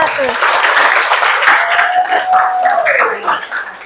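Students in an Indonesian classroom clap for classmates who scored 100, a loud, close burst of clapping mixed with voices and a rising vocal tone.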